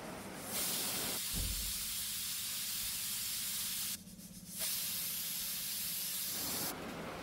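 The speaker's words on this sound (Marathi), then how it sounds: "तर 5 ते 6 शिट्ट्या करणार आहे" A pressure cooker on the stove lets off steam while cooking a dal dish, giving loud sustained hissing bursts that cut off and restart, with quieter gaps between the jets.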